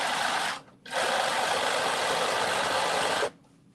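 A home sewing machine stitching a New Look 6741 garment in two steady bursts, a short one, a brief pause, then a longer continuous run at moderate speed, fairly close with no talking.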